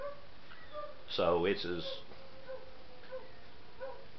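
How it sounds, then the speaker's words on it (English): Neighbours' dogs next door barking and whining, a short burst of yips and whimpers in the distance, with someone speaking faintly before and after. "the dogs next door are starting to sing the choir."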